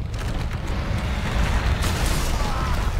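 Rumbling explosions from the Uragaan monster in Monster Hunter World, a continuous loud, dense low boom and roar sustained throughout without a break.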